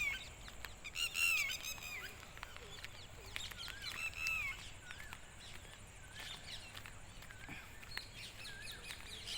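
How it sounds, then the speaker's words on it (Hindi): Several birds chirp and call with varied, overlapping high whistles and tweets near a river in Rajasthan, fairly faint against a steady outdoor background with no talking. "पक्षी लोग अपने अपने में बातें कर रहे हैं"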